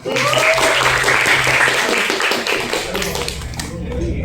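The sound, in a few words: class applauding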